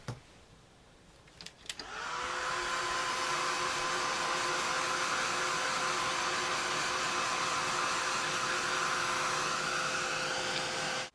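After a short pause and a couple of clicks, a heat tool or dryer switches on and blows with a loud, steady whooshing drone for about nine seconds, drying an inked craft tag, then cuts off.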